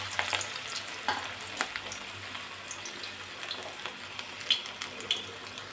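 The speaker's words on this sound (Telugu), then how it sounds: "ఇలా ఒక్కొక్కటి కాల్చుకోవాలి" Rice flour snacks fry in hot oil, giving a soft, steady bubbling sizzle that stays quiet throughout, with occasional light taps and small crackles on top.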